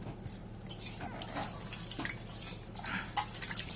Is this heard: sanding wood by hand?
no